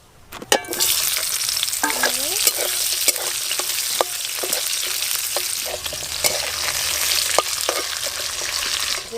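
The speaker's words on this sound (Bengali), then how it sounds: "ওই একই তেলে ক্যাপসিকাম ভেজে নেব" Capsicum fries in the hot oil left in a pan after cooking fish for a pangas kalia, giving a loud, dense, continuous sizzle with repeated scraping stirs throughout and no speech.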